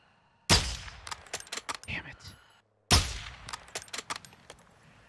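Two sharp gunshots in the Warzone video game crack about two seconds apart. Each is followed by a quick string of metallic clangs and echoing hits that fade before the next shot.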